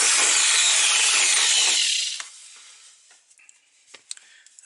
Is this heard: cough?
no